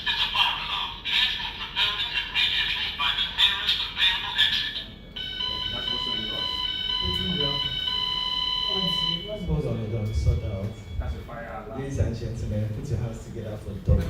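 An alarm sounds with steady buzzing, pulsing tones that shift pitch partway through, going off close by while people talk over it in a room.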